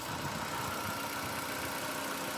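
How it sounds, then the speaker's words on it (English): The 1.2-litre 16-valve engine of a 2005 Nissan Micra K12 idles in a steady, even hum that is moderately loud and close, with no voices heard. "Engine then runs nice and smooth"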